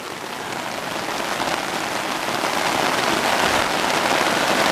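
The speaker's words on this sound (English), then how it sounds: "Is it cold rain?" Steady cold rain pattering on a surface, a dense continuous hiss of drops that grows slightly louder throughout, with no voices.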